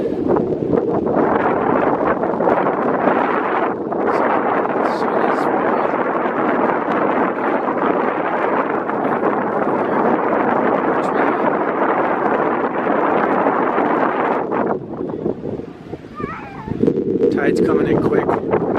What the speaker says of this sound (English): it's always breezy out here, but it's extra breezy out right now